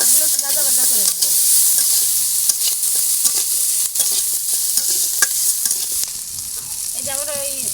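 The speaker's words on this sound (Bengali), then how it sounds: "একটু নেড়ে ছেড়ে সবগুলো একটু ভাজা ভাজা করে নেবো।" Crabs with green chilies and garlic paste are stirred and fried in a pan, producing a loud continuous sizzle broken by frequent scraping stir strokes; a faint voice comes through briefly.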